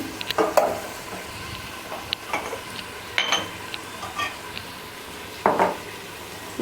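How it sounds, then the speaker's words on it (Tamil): Chopped tomatoes soften in a pan for a home-style biryani, with a low sizzle under scattered spoon scrapes and clinks against the pan in uneven bursts, fairly close and quiet. "தக்காளி வதங்கட்டும்."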